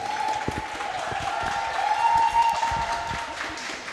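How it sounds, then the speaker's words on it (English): Studio audience claps and cheers for two guests on a DCS showcase show, a steady wash of applause with a faint tone running beneath it. "give a round of applause for Miss Janelle Dillon and Anthony Andorn"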